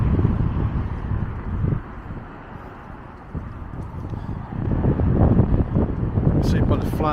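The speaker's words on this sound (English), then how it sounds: "it's pretty windy, pretty gusty." Gusty wind buffets an outdoor microphone beside a police station with a flag overhead, rising and falling in loud rumbling surges with a quieter lull in the middle, and a voice speaks briefly at the end.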